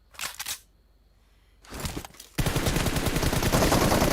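Gunfire in the mobile battle-royale game PUBG Mobile: two short bursts of shots, then after a pause a loud, dense, sustained volley of rapid fire that runs continuously to the end.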